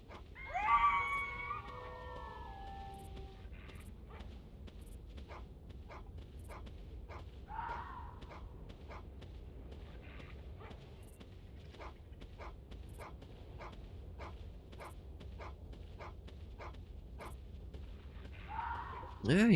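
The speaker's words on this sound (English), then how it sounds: "he's kind of stuck in his barking loop" A dog in the video game Carnivores: Far North barks in a steady, repetitive loop, short sharp yips spaced about every second at moderate distance, after a brief voice at the start.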